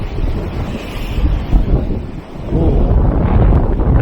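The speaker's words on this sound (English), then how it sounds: "The wind's really picking up now." Strong gusting sea wind buffets the microphone in loud rumbling bursts, swelling after a brief lull, with a short exclaimed voice, during shore lure fishing.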